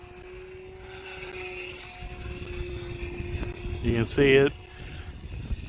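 A 4S-powered RC Fun Cub model airplane flies at about three-quarter throttle in windy conditions, its electric motor and propeller making a steady, moderately distant whine. Someone speaks briefly over it.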